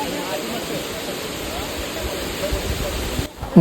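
Rushing water at Siddheshwar waterfall makes a steady, dense roar that stays even and full throughout, then briefly drops away near the end.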